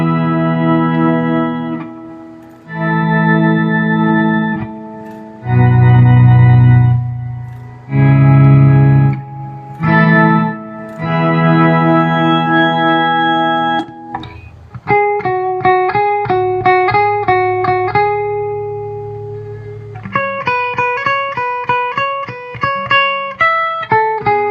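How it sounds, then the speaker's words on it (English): An electric guitar runs through a Disaster Area pedal controller, first in a sustained swelling tone with slow chordal notes, then switching to a brighter, plucked lead tone with rapid repeated notes and echo. "So this is the swell tone. This is the little lead tone."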